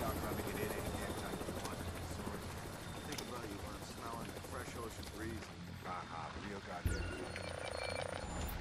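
A helicopter in the video game Splinter Cell Blacklist drones with a steady chopping rumble throughout, mixed with game sound effects and voices talking over it.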